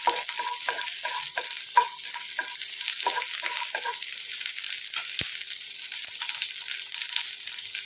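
Finely chopped small onions fry in hot oil while being stirred, a loud continuous sizzle with repeated close scraping strokes of a spoon across the pan.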